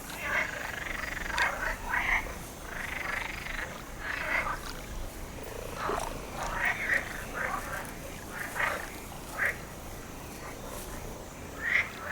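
A chorus of male European green frogs croaks steadily, with repeated short, rasping calls overlapping at moderate distance over a soft, constant background of more frogs.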